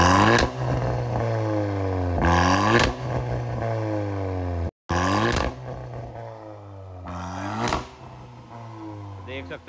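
A vehicle with a newly fitted exhaust is started and idles with a deep, steady rumble. It is punctuated by repeated revs that rise and fall, sharp crackles and pops, and a brief cutout midway.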